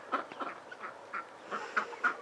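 Ducks on a crisp morning farm quack in a rapid series of short calls, about eight nasal quacks spread unevenly over a couple of seconds at moderate distance, with no talk.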